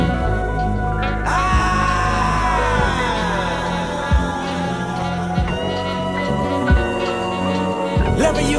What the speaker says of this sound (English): Then we hear him scream.